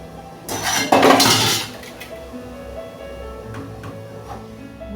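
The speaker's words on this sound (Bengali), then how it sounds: "এবার হচ্ছে কড়াইটা বসাবো।" A metal kadai set down on a kitchen stove, a loud clanking scrape of metal against the burner followed by a few lighter clinks as it settles.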